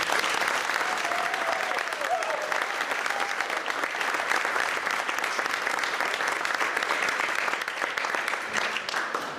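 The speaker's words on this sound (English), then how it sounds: "another round of applause for them, please" At an ambassador's reception in a city hall, an audience gives children a sustained round of applause, a dense clapping roar lasting the whole stretch.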